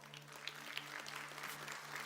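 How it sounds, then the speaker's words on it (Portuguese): An audience applauds a doctor, a neuroscientist, a soft, dense, continuous wash of clapping from a crowd. "pedir um forte aplauso, doutor Ariovaldo"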